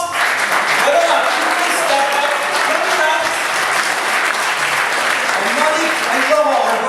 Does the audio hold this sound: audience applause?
yes